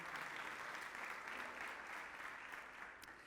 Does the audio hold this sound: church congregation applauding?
yes